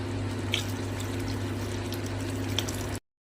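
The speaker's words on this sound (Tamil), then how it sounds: "நல்லா கொதிச்சிருச்சு இப்போ நம்ம புளி சேர்த்துக்கலாம்" Steady tamarind water pouring and splashing into a simmering fish curry pot, a continuous close wash of sound that stops abruptly.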